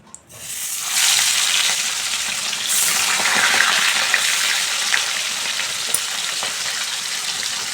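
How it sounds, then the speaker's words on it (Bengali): Salted, turmeric-rubbed bata fish frying in hot oil for a Bengali fish curry, a loud steady sizzle rising sharply after a quiet first second, with a few clicks and crackles on top and no voices. "তেলটা ভালো করে গরম হয়ে গেছে, আমি মাছটার মধ্যে নুন হলুদ মাখিয়ে নিয়েছি, ভেজে নেব।"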